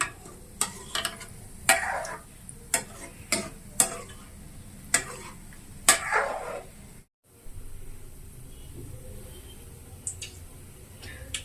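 Gulab jamun balls fry in hot oil while a ladle knocks against the pan in sharp, spaced clacks over a low bubbling hiss, followed by a steadier sizzle after a brief gap.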